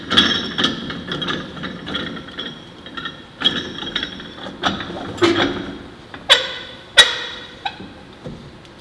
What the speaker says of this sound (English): then you take your speed nut, spin it on.